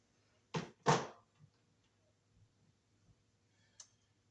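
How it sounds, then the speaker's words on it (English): Wire strippers bite and pull insulation off electrical wires for a fluorescent light ballast, two sharp close clicks in quick succession followed by faint handling ticks and a small snap. "We'll strip them with our wire strippers here."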